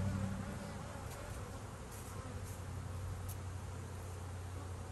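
Honeybees bearding on the outside of a hive in an apiary give a steady, dense buzzing hum that fills the whole stretch, close and even with no pauses.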